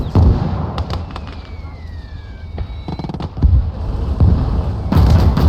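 Mortar rounds launch in a World War II battle in the video game Gates of Hell: Ostfront, heard as sharp, loud thumps and booms at irregular intervals over a rumbling battlefield background.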